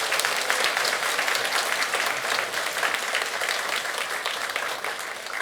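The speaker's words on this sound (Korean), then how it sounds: "네, 큰 박수 부탁드리겠습니다." A Catholic parish congregation claps for a priest's name day celebration during Mass, a loud and continuous round of applause from many people, close and unbroken for the whole stretch.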